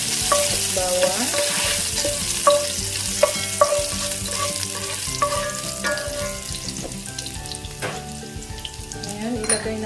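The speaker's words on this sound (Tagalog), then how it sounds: "maglagay tayo ng ating oil at bawang." Garlic sautéing in hot oil for Filipino ginisang munggo with sotanghon, a steady close sizzle and frying crackle running throughout, with stirring clinks and some music-like tonal sounds underneath.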